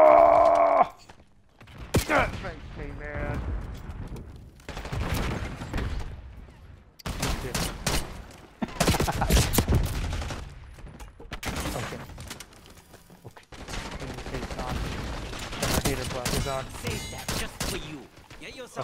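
Gunfire from a gun in Fortnite rings out in repeated loud bursts separated by short pauses, with people talking between and over the shots.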